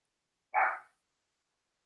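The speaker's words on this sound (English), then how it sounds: "Now my dog's barking because he heard." A dog gives one short, sharp bark close by, then silence.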